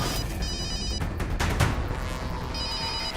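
A phone rings with repeated electronic trills in bursts, heard over a busy background of music and other sound, with no talking.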